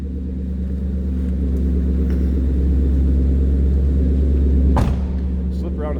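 A deep, steady V8 engine rumble at idle from a supercharged 2013 Ford Mustang GT, low and heavy throughout, with a brief thump near the end.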